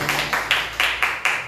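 Congregation clapping in praise to Jesus Christ during a church sermon, about seven sharp claps in an uneven rhythm, close and loud, with no talk in between.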